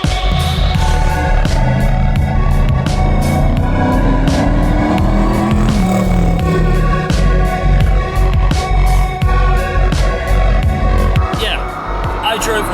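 A BRISCA stock car drives at speed, its loud engine roaring continuously with tire squeal and skids rising over it, while people talk throughout.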